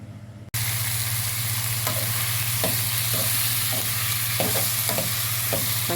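Green chilies and onions fry in oil in a pan for a moringa leaf chutney, giving a steady close sizzle broken by repeated scraping stirs of a spatula. No one speaks.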